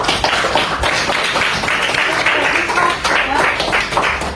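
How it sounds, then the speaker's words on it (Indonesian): A classroom audience applauding a presenting student group, scattered hand claps forming a modest, steady patter of moderate loudness. "terima kasih tepuk tangan untuk kelompok"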